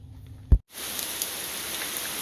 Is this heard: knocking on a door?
no